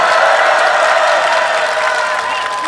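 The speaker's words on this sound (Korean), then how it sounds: "김영만 의원님께 다시 한번 큰 박수 부탁드립니다" Crowd applause at an outdoor candlelight rally for lawmaker Kim Yong-man, dense steady clapping with scattered cheers filling the whole stretch, loud and even, easing slightly toward the end.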